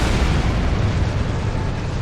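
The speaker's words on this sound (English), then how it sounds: "Detonate the... Detonating charges." Detonated charges exploding in the video game Star Trek Online, a loud, sustained roaring blast that fills the whole span without letting up.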